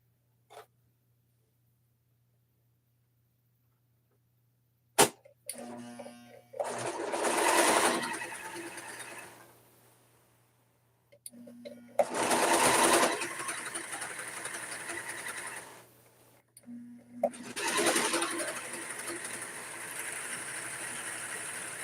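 A Brother 0134DX sewing machine runs in three separate bursts of steady, buzzing stitching, each a few seconds long, with a low hum and quiet pauses between runs.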